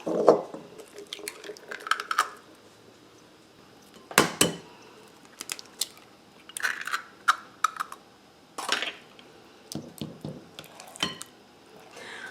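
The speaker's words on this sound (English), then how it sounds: "I'm going to incorporate 1 egg at a time in here and mix it up." Eggs being mixed one at a time into red velvet brownie batter in a bowl, irregular wet clicks, taps and squishy stirring strokes against the bowl, close and moderately loud.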